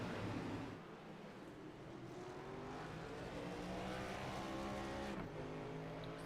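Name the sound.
pace truck engine firing up at NASCAR race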